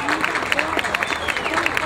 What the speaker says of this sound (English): Round of applause for Mike Bream.